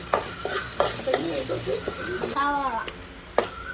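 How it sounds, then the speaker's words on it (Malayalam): Curry leaves, ginger-garlic paste and onion frying in a pan for a beef dish, with a steady sizzle and repeated spoon scrapes and taps under someone talking. "സവോള എല്ലാം കൂടെ ഇട്ടിട്ട് നന്നായിട്ട് ഇളക്കി അപ്പോൾ അമ്മയാണ് അവിടെ നിന്ന് ഇളക്കുന്നത്"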